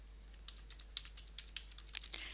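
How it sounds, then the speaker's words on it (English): Computer keyboard being typed on during chart editing, a quick run of soft, close key clicks in an uneven rhythm, faint against a low steady hum, with no talk. "I'm now going to type temperature"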